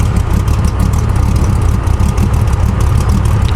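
A 1983 Chevrolet C10 pickup with a 350 engine idles while still cold, giving a loud, steady, low rumble with an even, pulsing throb close by and no talking.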